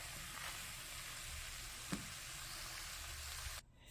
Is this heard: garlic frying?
yes